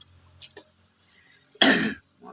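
One sharp, loud cough bursts out after a quiet stretch, followed by a brief soft sound.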